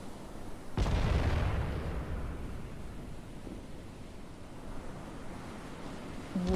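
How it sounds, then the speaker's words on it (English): One heavy battleship gun blast in Battleship Command, a deep boom followed by a long fading rumble over steady low wash, with no voices. "our guns are firing"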